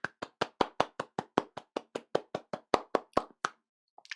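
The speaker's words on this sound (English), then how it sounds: "joining me right now for our round the world round of applause" Slow, evenly spaced single hand claps, about eighteen in a row, sharp and close, alone without talk, ending with a couple of faint taps, as a round-the-world round of applause after a CityJS 2021 frontend tooling talk.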